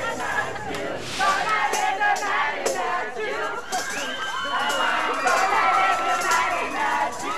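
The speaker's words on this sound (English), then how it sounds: "Saktong paglabas ni Donaire, nakita niyang todo rehearse din ang fans niya ng cheer na gagawin nila ngayong gabi" Fans of boxing champion Nonito Donaire rehearse a cheer for an evening event, a loud crowd of shouting, chanting voices rising and falling in bursts, with high excited calls and general babble throughout.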